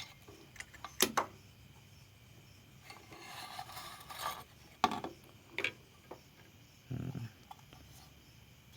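Metal casing of a 500 watt DC to AC inverter is slid off its chassis after the fastening bolts come out, giving a few short scraping and knocking bursts separated by quiet pauses, close and fairly faint.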